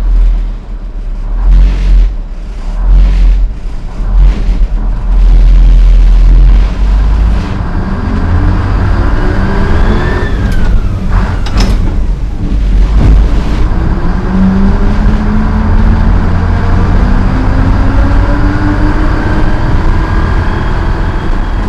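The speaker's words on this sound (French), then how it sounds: "Vers Bienne-sous-Thuin, à bord d'un tramway à moteur thermique." A vintage tram with a combustion engine runs on a heritage tramway line near Thuin, Belgium, giving a loud, steady low engine rumble with rising and falling revving tones throughout, no talk.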